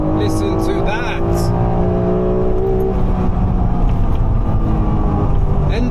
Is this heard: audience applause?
no